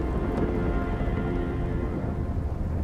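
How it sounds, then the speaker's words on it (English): Thunder rumbling over a mountain wrapped in thick cloud, a continuous low heavy roll with rain-like hiss, loud and unbroken, with no voices. "there was thunder and lightning, and a thick cloud on the mountain"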